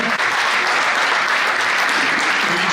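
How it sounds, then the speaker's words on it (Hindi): Loud, dense applause from an audience welcoming a guest on stage at a reunion gathering, a continuous wash of many hands clapping close by, with almost no talk over it. "जोरदार तालियों से उनका स्वागत करेंगे।"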